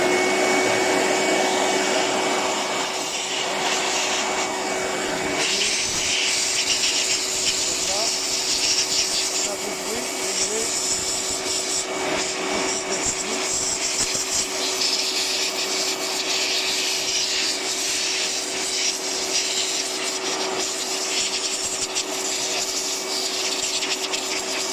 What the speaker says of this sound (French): C'est un petit compresseur où on met un pistolet au bout.